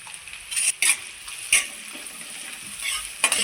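Curry leaves and onion fry in hot oil in a pan for a rohu fish curry, a steady broadband sizzle broken by a few sharp stirring scrapes and spatters, close and fairly loud with no talking.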